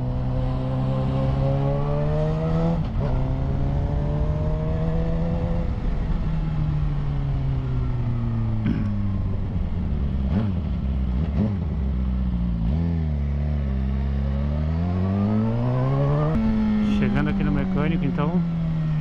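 Car engine with a modified aftermarket exhaust tip, droning and rising and falling in pitch as it accelerates and shifts while driving, loud and continuous throughout.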